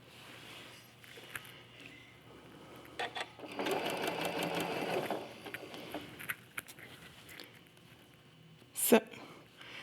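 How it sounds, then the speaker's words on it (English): A sewing machine stitches a quarter-inch seam joining quilt blocks, with a steady whirring run of about two seconds between quieter fabric handling and clicks, and a voice speaking softly nearby. "I'm going to Just stitch a 1/4 inch seam straight along that edge"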